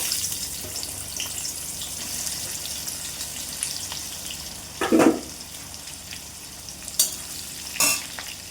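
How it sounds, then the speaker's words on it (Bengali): Bitter gourd fries in oil in a home kitchen with a low, continuous sizzle, broken by a brief gush of tap water and a few sharp clinks of utensils, close and fairly quiet. "লাল ভাজার তেলে আমি উচ্ছেটা ভেজে নেবো।"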